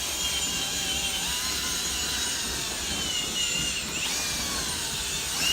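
A continuous whirring power-drill drone spinning 12mm sweeping rods with a whip head inside a flexible chimney liner runs throughout at steady level, with a faint rising whine toward the end and no talking.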